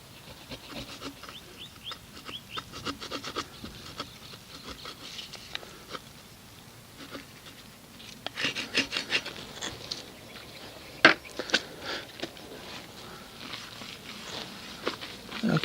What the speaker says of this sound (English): take my scraper and just work the adhesive off